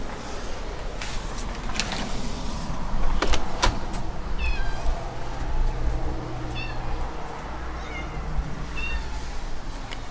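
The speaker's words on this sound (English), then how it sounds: "I hear what sounds like porch kitties." Several cats meow in short, separate calls, some near and some farther off, over a steady low rumble with a few sharp knocks.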